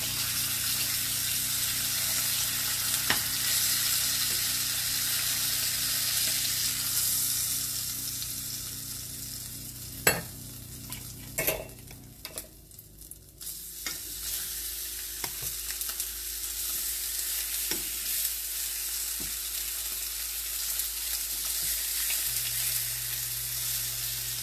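Fish pan-searing in olive oil, with smoked paprika on the fillets, gives a steady close sizzle and crackle that runs throughout, broken midway by a few sharp pan clatters and brief splashy bursts before the frying hiss settles back in.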